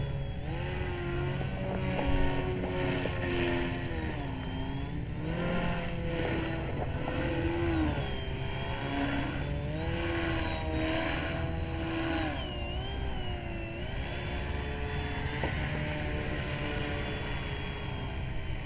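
A CrazyBall RC plane with elevons flies under an electric propeller motor, its steady buzzing whine rising and dipping in pitch with throttle changes and passes. It is loud and continuous, with no voices.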